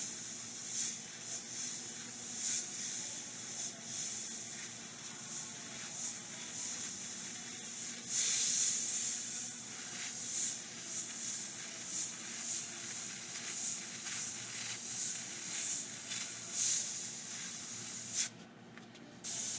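A Badger Anthem airbrush sprays paint in a continuous close hiss that pulses gently through fine lettering and scroll work, with a brief louder burst near the end.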